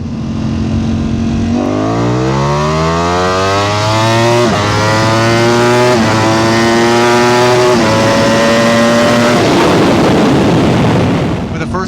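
A 2026 Ducati V4R superbike launches from a first-gear start and accelerates hard, its engine screaming upward through rising revs with sharp drops at each gearshift, loud and close, ending as it fades away.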